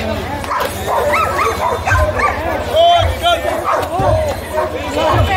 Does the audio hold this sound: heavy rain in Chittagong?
no